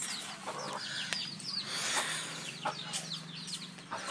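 Chickens cluck steadily through a rainy morning feeding alongside goats, with scattered bird calls and occasional sharp bursts over a constant low background hum.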